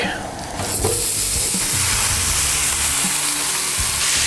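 Shaved prime rib hits a hot Blackstone griddle, a loud, dense sizzle that swells up within the first second and then holds steady, close and continuous, with faint low clatters underneath.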